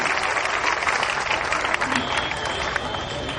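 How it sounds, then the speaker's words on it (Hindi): A hall audience at a Hindi comedy poetry gathering gives a poet sustained, dense applause, steady and loud for the whole stretch. "ऐसे बड़े कवि का बड़ी तालियां अभिनंदन करें"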